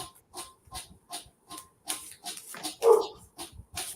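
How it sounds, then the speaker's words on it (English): A dog outdoors barks and yelps in a repeated, fairly regular series, muffled and moderately distant, rising to a louder cry near the end. "Gosh, my dog outside is carrying on."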